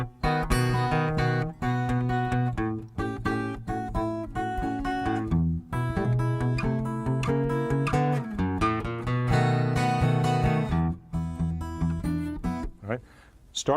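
An acoustic blues guitar plays a short turnaround phrase with plucked bass notes and chords, moving in a lilting rhythm before resolving.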